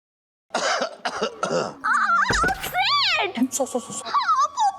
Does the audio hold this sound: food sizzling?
no